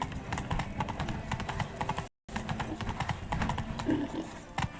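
A horse galloping in The Witcher 3 video game, quick rhythmic hoofbeats clopping over a continuous bed of ambient game sound, with a brief snort near the end and a moment of silence partway through.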